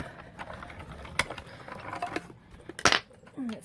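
Hand-cranked mini die cutting machine rolling a paper sandwich through its rollers, giving faint ratcheting mechanical clicks with two sharper knocks, soft and close in a quiet room.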